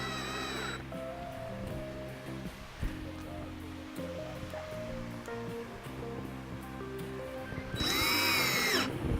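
A power drill driving small screws into a craft piece, heard as steady whirring bursts with varying pitch through most of the stretch, ending in a louder high-pitched whine near the end.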